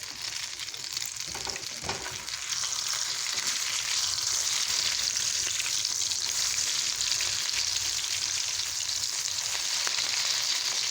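Tuna croquettes frying in too much oil in a pan make a continuous crackling sizzle, close and fairly loud, that swells after a couple of brief knocks near the start, with no talk.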